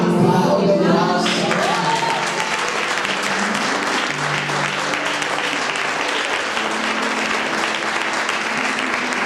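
A church congregation applauds during a sermon, with sustained clapping and a voice heard briefly at the beginning.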